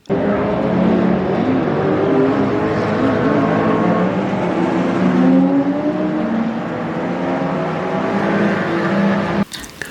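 Classic race cars from the 1960s, including NSUs, drive at the Nürburgring Classic. Their engines make a loud, continuous roar that rises and falls as the cars pass close by, and it cuts off abruptly near the end.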